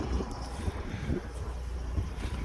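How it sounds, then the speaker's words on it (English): Cold wind blows across an open farm field where a truck is being loaded with grain, a steady low buffeting roar with gusty thumps hitting the microphone. "It's getting really cold and windy out."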